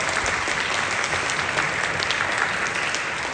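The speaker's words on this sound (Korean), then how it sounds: "네, 박수 부탁드립니다." Audience at a Korean commemorative book talk breaking into steady, dense applause, a continuous wash of many hands clapping close and loud throughout.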